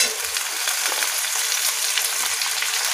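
Cauliflower, potato and broccoli fry on a high flame in a pan for a mixed vegetable dish, giving a loud, dense, steady sizzle with faint stirring, heard close and alone.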